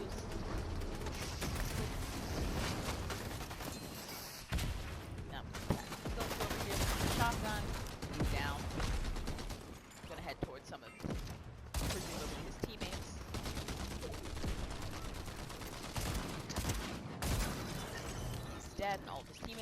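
Gunfire crackles through a Fortnite battle in dense rapid bursts and volleys, mixed with other game effects and talk.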